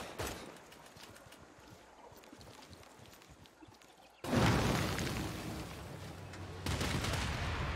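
Battleship bombardment in the strategy game Civilization VI: a quiet stretch of rattling gunfire, then a sudden loud booming blast that rolls on, followed by a second jump in explosive roar near the end.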